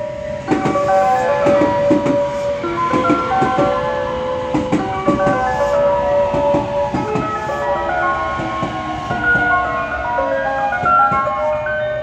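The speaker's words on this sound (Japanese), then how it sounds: "2番乗り場に電車が参ります。" A train pulls into a JR Hanwa Line station platform in Japan, with a steady rumble, rhythmic rail clicks and high tonal melody-like chimes or brake tones running throughout at close range.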